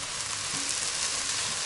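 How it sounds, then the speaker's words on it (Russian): Chopped vegetables and tomato fry together in a pan during home cooking, giving a steady, even sizzle that stays close and constant throughout with no talking. "Обжариваем все вместе в течение нескольких минут."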